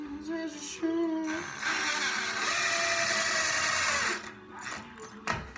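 A power drill drives a screw into wood, one steady whirring burst of about two and a half seconds, close and fairly loud, with quieter handling noises before and after.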